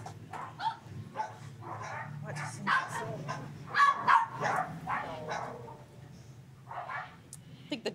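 Dogs barking and yipping repeatedly at moderate distance outdoors in Australian country, with a person talking over the barks throughout.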